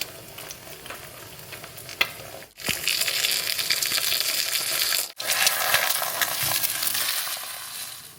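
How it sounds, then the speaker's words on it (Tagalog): Egg frying in a pan for breakfast gives a steady loud sizzle that swells after a brief clink, broken by two short pauses, with no talking. "Magluluto na ako ng breakfast. Yung lulutuin lang natin ay egg."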